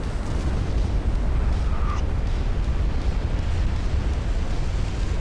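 An ammunition flash fire aboard a warship in the naval strategy game Ultimate Admiral: Dreadnoughts rumbles as a loud, continuous low explosive roar with no clear separate blasts.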